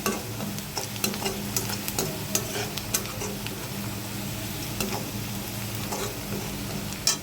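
Onion and crushed garlic fry in a pan for methi bhaji, giving a steady soft sizzle. Occasional stirring clicks and scrapes of a utensil sit over it, moderately close and fairly quiet.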